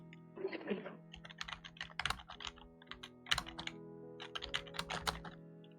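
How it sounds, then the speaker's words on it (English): Close, clattering computer keyboard typing comes in uneven bursts of sharp key clicks separated by short pauses, with a faint voice early on. "Your typing's loud."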